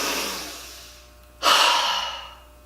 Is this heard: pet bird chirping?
no